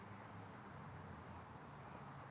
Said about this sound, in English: now we got cicadas out here